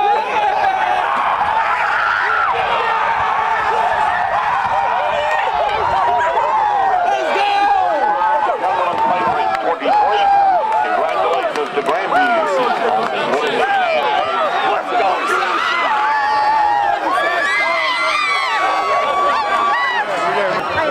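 Green Bay football crowd at the NAIA national championship game roaring and cheering after a strip, a dense, loud, sustained crowd noise under excited commentary that runs nearly throughout.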